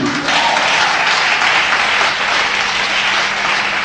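A church congregation in Abidjan applauds and acclaims God, a steady, loud wash of clapping from a large crowd that holds evenly throughout, with faint voices mixed in.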